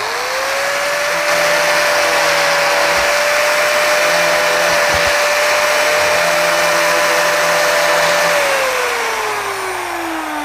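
A grinder fitted with a paper blade whines steadily as it cuts, a loud continuous motor tone holding for about eight seconds before winding down near the end.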